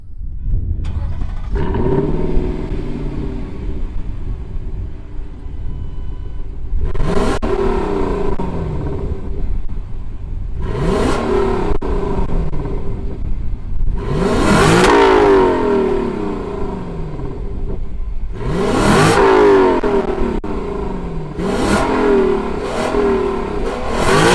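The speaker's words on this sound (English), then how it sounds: "let's fire up this V8 and hear what it sounds like." A 2021 Lexus LC 500 convertible's naturally aspirated V8 starts up and settles into a loud, close idle, then is revved sharply five or six times, each rev climbing quickly and falling back to idle.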